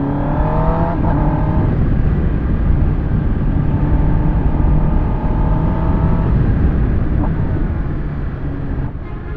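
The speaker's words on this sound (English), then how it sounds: "You guys want me to do another rev?" A new BMW S1000RR M Sport motorcycle at a dealership, its engine held at a loud, steady high idle for several seconds with rising and falling harmonic tones as it is revved up close.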